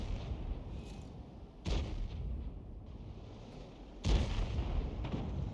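Artillery shots from a GW E 100 self-propelled gun in a tank battle game: two heavy, booming reports a few seconds apart, each a sudden loud blast that rolls off into a low rumble, with no talk over them.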